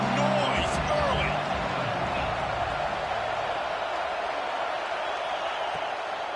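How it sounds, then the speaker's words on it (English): A stadium crowd at a football game roars in a broad, continuous wash of noise, loudest at the start and holding steady, with a voice speaking over it. "This crowd bringing the energy and noise early."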